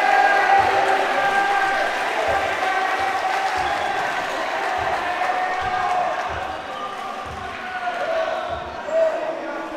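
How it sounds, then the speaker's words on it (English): A basketball crowd at a game between Bristol MET and Bristol Storm cheers and applauds in a loud, sustained roar, with rhythmic ball bounces on the court and a commentator talking over it. "The crowd are going mad."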